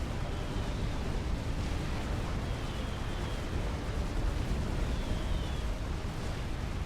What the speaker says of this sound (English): as more and more of those rockets and Gatling gunfire come out of these mongoose